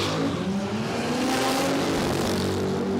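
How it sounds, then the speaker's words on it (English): Drag racing car at Palmyra Dragway in an Outlaw Nitro Funny Cars event, a Daniel Liss LX Torana sedan spinning its tyres at launch, a loud continuous engine roar with a steady high-revving drone throughout. "Spun the tyres on the hit there for Listy."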